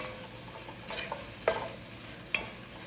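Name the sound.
stirring chicken with spices in a pot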